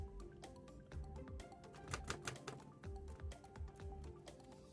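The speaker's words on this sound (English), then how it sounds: "This is just me typing." Rapid, uneven clicks on a small portable keyboard for a Steam Deck, quiet but close, with irregular bursts and short pauses of fast typing.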